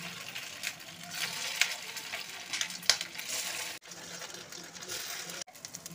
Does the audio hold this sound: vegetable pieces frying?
yes